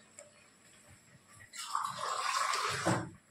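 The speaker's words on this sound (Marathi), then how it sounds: "डाळीमध्ये आपल्याला जेवढं पातळ लागते डाळ त्याप्रमाणे पाणी टाकणार आहे" Water is poured into a pot of cooked lentils (dal), a soft gushing splash lasting a bit over a second after a quiet start, fairly faint with no speech.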